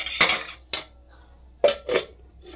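A metal lid is set onto a pan while making ragi chapati, giving a few sharp clinks and clanks in two short bursts separated by quiet.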